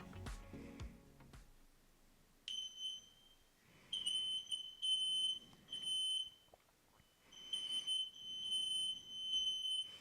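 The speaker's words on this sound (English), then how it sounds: "it said that it detected the smoke alarm" A household smoke alarm plays back as a recorded smart-home alert, giving bursts of shrill, piercing electronic beeps in a repeating pattern with short gaps between them, clear and fairly loud.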